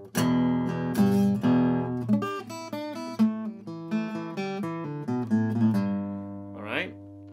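Acoustic guitar fingerpicks a riff with quick pull-offs, plucked notes ringing clearly and fairly close in a flowing, uneven rhythm, ending with a brief sliding sound.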